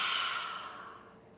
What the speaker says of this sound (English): 3 open mouth breaths into your palms